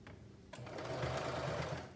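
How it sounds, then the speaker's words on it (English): Sewing machine topstitching along the folded edge of a shorts pocket, a fast steady mechanical whir close up after a short pause. "I want to go ahead and top stitch along the edge of this angled folded over line"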